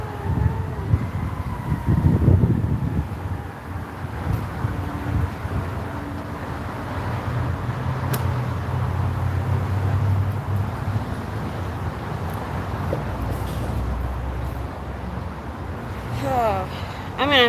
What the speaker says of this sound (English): Oh crap, the wind's gonna get my sign.